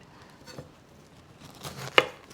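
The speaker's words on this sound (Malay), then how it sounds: "saya nak potong nenah ni" Kitchen knife cutting through a pineapple, a few soft slicing strokes, then a sharp, crisp chop that lands on the board, close and quiet with no talk.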